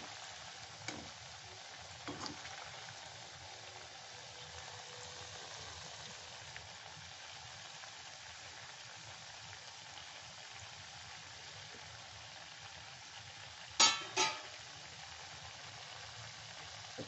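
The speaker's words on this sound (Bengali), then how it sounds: "একটু ভাজতে একটু সময় লাগবে" Food fries quietly in a pan with a faint, steady sizzle and soft crackle, broken by a few brief clinks and one sharper pair of clatters near the end.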